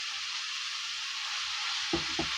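Chopped fenugreek leaves fry in a pan with a steady, close, even sizzling hiss, and two brief soft knocks near the end.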